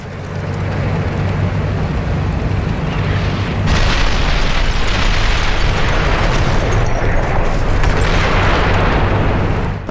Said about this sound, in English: I hear a tank firing out here